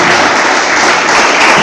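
A church congregation applauds in a dense, loud wash of clapping that stays steady throughout the brief moment.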